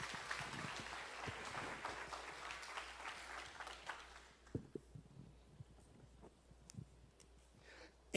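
A church congregation claps loudly for several seconds, then the applause thins into scattered, fading claps with a few isolated louder hits over a quiet room.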